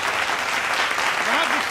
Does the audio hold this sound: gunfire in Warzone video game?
no